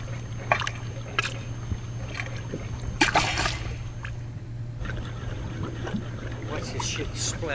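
Water splattering and trickling at a salty geothermal pool, with scattered splashes over a steady low hum and background rush; someone talks nearby at times.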